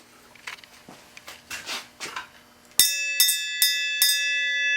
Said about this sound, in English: Ring the bell, man.